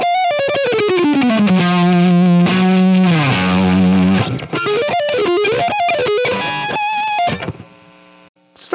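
Electric guitar through a Line 6 Helix, dialed for a distorted tone: loud, sustained lead lines with sliding bends and fast melodic runs, close and alone, fading out near the end.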